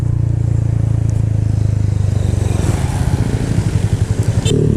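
Close, loud motorcycle engine with a new aftermarket exhaust pipe idles in a fast, even burble, then blips and revs briefly near the end.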